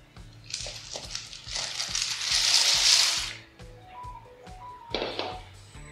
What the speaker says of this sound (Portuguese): aqui eu tenho um pacote de macarrão, desse penne, que eu vou colocar aqui para cozinhar